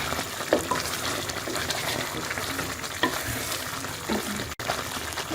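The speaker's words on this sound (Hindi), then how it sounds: "इसमें आपने साथ साथ चम्मच चलाते रहना ताकि नीचे से जो है वो हलवा लगे नहीं" Moong dal halwa thickens in a pan while a spoon stirs it, giving a steady close sizzle and frying hiss with soft scraping strokes throughout.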